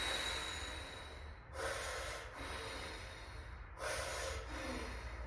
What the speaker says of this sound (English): And then 3 breaths through your nose.